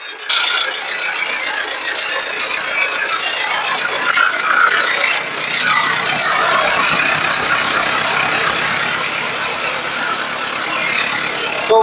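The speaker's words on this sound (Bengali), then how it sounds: "তো ভাই গাড়িটা স্টার্ট দিচ্ছে, আপনারা ভালোভাবে দেখে নিন। আপনাদের ইঞ্জিনের সাউন্ড শোনাবো।" A second-hand tractor engine runs steadily after starting, with a loud, continuous mechanical clatter and rattle that holds close and fairly even throughout, plus a few brief metallic ticks partway through.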